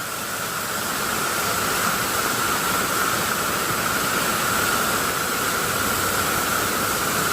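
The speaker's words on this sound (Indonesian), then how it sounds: "jelas melihat gimana suasana dari air terjun" Air Terjun Gemleng waterfall roars steadily and alone in a broad, continuous rush of falling water, close and loud, with no pauses for the whole stretch.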